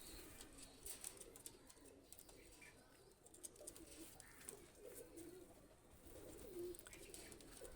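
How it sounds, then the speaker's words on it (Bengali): A pair of Royal Teddy running pigeons, a Pakistani high-flyer breed, with faint low cooing and bird chatter under a busy, hissy ambient background, quiet and fairly distant. "তো দেখেন একটা রয়্যাল টেডি কবুতর নিয়ে আসলাম এটা হলো রানিং কবুতর দুইটা কবুতর দেখেন"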